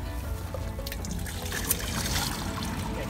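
Water sloshing and trickling while a cassette toilet is rinsed out in a campervan, a continuous close-up splashing wash with small gurgles and one brief louder splash partway through.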